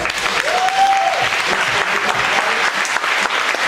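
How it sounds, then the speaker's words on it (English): Steady, loud applause fills a poetry reading at an art space, dense clapping from the audience running throughout with a brief tonal whistle-like sound early on. "Give them one round of applause."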